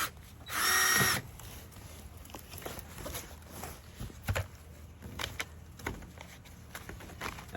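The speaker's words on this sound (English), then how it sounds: "We're going to throw 2 screws in down here." A power drill drives screws into a high-tile greenhouse frame while shade cloth is being installed. One short, loud whirring burst comes near the start, followed by quieter knocks and handling noises.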